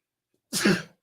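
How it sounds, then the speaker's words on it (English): A single short, rough throat clearing, close and fairly loud, about half a second long, preceded by near silence. "Excuse me as I clear my throat."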